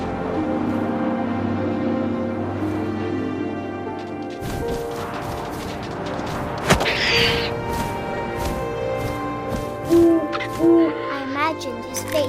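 In the video game What Remains of Edith Finch, an owl hoots over a low ambient wind bed, followed by scattered thuds and movement sounds, with a soft musical drone throughout.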